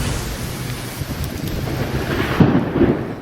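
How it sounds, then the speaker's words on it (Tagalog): Heavy afternoon rain pours down in Metro Manila with a deep, rolling rumble of thunder; a loud, continuous roar with wind buffeting the microphone. "Sinabayan ng kulog at kidlat ang malakas na ulan ngayong hapon."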